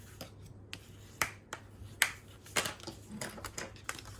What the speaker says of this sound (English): I'm just going to trim off that excess there.